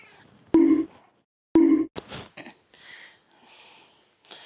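Two short, loud cat meows close to the mic, a few seconds apart, followed by quieter snuffling and rustling.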